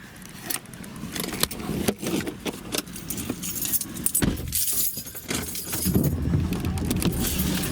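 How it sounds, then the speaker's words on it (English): Keys jangling as someone gets into a car on a rainy day, with rustles, clunks of doors and seat movement close by, then a muffled rising hum of the vehicle toward the end. "So let's get in the car."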